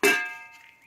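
A metal grill pan set down over an open wood fire gives a single bright clang, its metallic ring decaying quickly over under a second.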